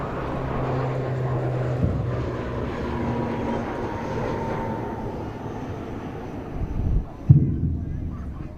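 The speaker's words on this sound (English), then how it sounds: "ATR 72 Series 600. Watch it just jump off the runway now." ATR 72-600 turboprop taking off from Manchester Airport, a steady droning propeller and engine rumble at moderate distance with a sustained low hum, ending in a couple of brief louder bumps.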